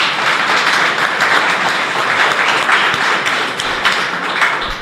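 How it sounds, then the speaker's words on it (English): Sustained applause from an audience, a steady wash of many hands clapping at even loudness from start to finish. "Please give them a round of applause."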